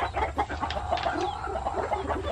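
A hen clucking on a farm, giving a string of short, close, irregular clucks over faint background noise.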